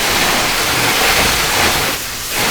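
Loud, steady hiss of water spraying hard against a car panel, continuous for a couple of seconds with a brief dip near the end.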